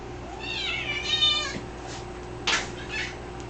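A cat meows close by, one long drawn-out call followed by a shorter, sharper meow, over a faint steady hum.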